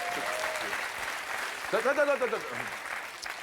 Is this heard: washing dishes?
no